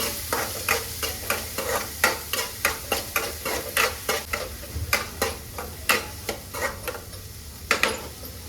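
Soya chunks roast in a spoonful of oil in a pan, a steady sizzle broken by rhythmic scraping strokes of a spoon about every half second, close and fairly loud.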